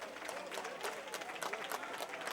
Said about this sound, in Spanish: vamos a recibir a Rosillo con un aplauso